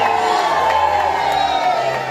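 Capacity crowd outside a church cheering for the King and Queen, a steady dense roar of voices with whoops and shouts rising over a constant low hum, loud and sustained throughout.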